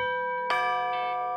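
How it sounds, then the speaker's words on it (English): A front doorbell rung at a house on a residential street, a single bright chime striking over a sustained tone in a quiet setting. "One that dared you to ring the front doorbell."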